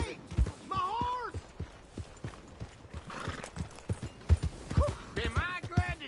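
Horse hooves clip-clopping in the video game Red Dead Redemption 2, sharp close hoofbeats in an uneven walking rhythm, with a horse whinnying and voices talking over parts of it.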